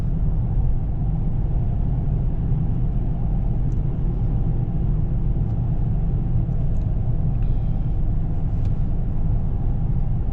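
A Lexus LS430 on Blizzak snow tires corners at around 50 on a snowy road, giving a steady, loud low road and engine rumble that stays even throughout with no talking.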